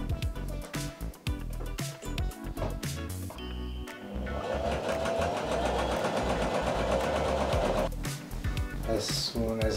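Sewing machine stitching a fabric patch onto a pair of trousers, a steady mechanical whirring chatter that runs continuously and loudly, starting with uneven bursts and then settling into a constant drone.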